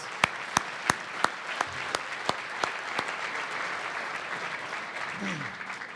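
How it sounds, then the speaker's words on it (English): Audience applause for an honoured family at a Legacy of HOPE special presentation: a handful of loud, sharp individual claps open, then a broad sustained round of crowd clapping, with a brief voice near the end. "Can we give them one more round of applause?"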